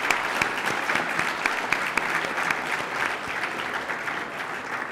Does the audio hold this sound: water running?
no